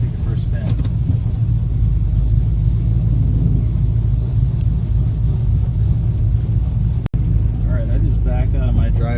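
A car fitted with an upgraded quick-ratio steering box backs out of a driveway, producing a steady low engine rumble throughout, with a voice heard briefly near the start and end.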